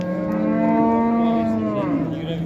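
Milking cows at the Karshi livestock market giving a loud, sustained, drawn-out moo nearby that bends downward at the end, with market noise faintly behind.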